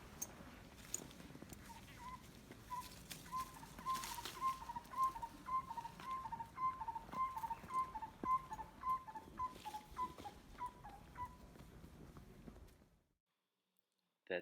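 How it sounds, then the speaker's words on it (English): A faint, repeated series of hollow, bell-like notes from a black-collared barbet rings out in a steady rhythm from a distance, accompanied by soft rustling and light clicks. "That sound that we just heard belongs to the black-collared barbet, small little bird."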